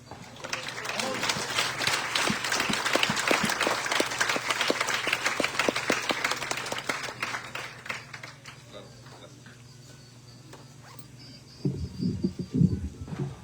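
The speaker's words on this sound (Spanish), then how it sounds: "recibamos, hermanos, con un fuerte aplauso al evangelista Santos Gámez" A church congregation at an anniversary service in La Paz, Chalma, Veracruz, breaks into strong applause to welcome an evangelist, with loud clapping that fades after about eight seconds, leaving a quieter room before a voice speaks.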